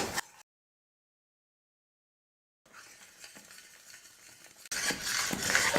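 Hot oil is stirred little by little into a Mysore pak mixture in a kadai. After a long quiet gap, soft scraping and a gentle sizzle start up, then grow louder and busier toward the end.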